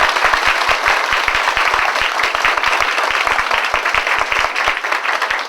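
Sustained applause from a seated audience honouring elderly guests at a Hong Kong community event, dense steady clapping at full volume throughout with no speech over it.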